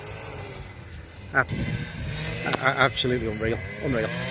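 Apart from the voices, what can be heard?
grass trimmer running near koi ponds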